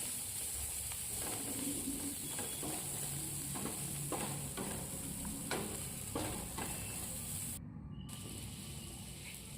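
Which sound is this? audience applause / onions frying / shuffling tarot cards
onions frying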